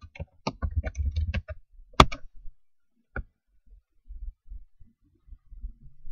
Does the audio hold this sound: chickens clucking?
no